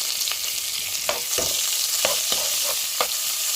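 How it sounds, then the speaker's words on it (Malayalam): Ginger, garlic, green chili and curry leaves tempering in hot oil for a sardine pickle, giving a steady close sizzle with several sharp scraping stirs of a spoon against the pan. "ഇഞ്ചി വെളുത്തുള്ളി പച്ചമുളക് കറിവേപ്പില നമുക്ക് എണ്ണയ്ക്കകത്തും താളിച്ചെടുക്കാം"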